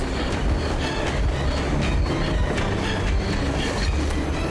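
A train rolling along the rails in the Metro Exodus video game, a loud continuous rumble with rhythmic clickety-clack of wheels and faint squeals, heard up close without talk.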